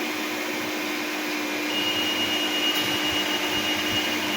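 An electric blower, run as a load on a 3 kW 48 V off-grid inverter test, roars steadily close by, a constant airy whoosh with a faint tonal whine, unchanging throughout.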